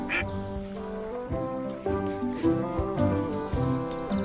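Cartoonish duck quacking in a video game, repeated quacks over a steady bed of game music, moderately loud with no voices.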